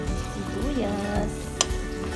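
Onions sizzle steadily in a frying pan, a soft continuous crackle with a faint stir and a single sharp clink, while a voice talks briefly over it.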